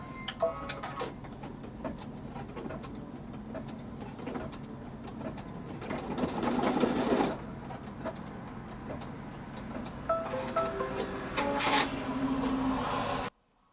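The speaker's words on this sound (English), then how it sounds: "it's going to come up right on the stitching line, the original stitching line, but in the center of this spine stitching to put the two little ribbons on" An embroidery machine stitching two small ribbons onto the spine of an in-the-hoop mini notebook cover, a steady rapid ticking and whirring chatter that swells midway and cuts off abruptly at the end.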